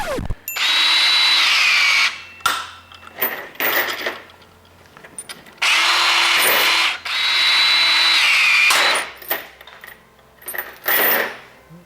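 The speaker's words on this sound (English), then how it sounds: "that's the 18-volt bolt cutter. You know, it's a P592." A Ryobi 18-volt ONE+ lithium-ion cordless bolt cutter, model P592, runs in two loud motor bursts of about two to three seconds each, whining as it bites through metal, with clanks and rattles of cut pieces between the runs.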